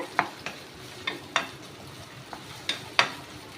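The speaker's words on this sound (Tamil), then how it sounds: "எண்ணெயில் நல்லா ஃப்ரை பண்ணி விட்டுருங்க" Raw banana slices fry in oil in a pan under a soft, continuous sizzle, broken by several sharp scraping clicks of a utensil stirring against the pan.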